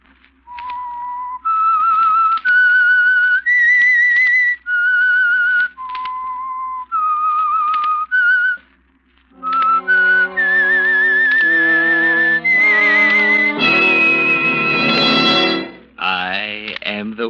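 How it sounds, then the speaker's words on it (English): A lone whistler performs the eerie melodic theme of The Whistler radio drama, clear sustained notes rising and falling, then joined by swelling orchestral accompaniment near the end. "That whistle is your signal for the Signal Oil Program"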